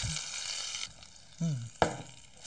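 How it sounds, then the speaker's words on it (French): Marinade hits hot cooked beef and sizzles, a steady hiss of frying throughout with a brief clatter partway through and a short vocal sound. "La marinade, on la récupère. On arrose le bœuf avec."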